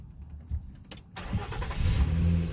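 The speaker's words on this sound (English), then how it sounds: "I'll start the vehicle." A 2016 Nissan Frontier with a CAN bus communication fault cranks briefly after a few clicks, then catches and settles into a steady running engine, fairly close with no talk.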